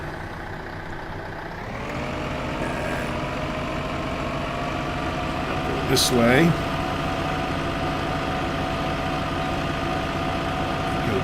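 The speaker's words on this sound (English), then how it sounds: "Now I'm going to come over to my cute little tractor." A tractor engine idles in Farming Simulator 15, a steady low drone that rises slightly after the first couple of seconds and holds under a man's brief spoken remark.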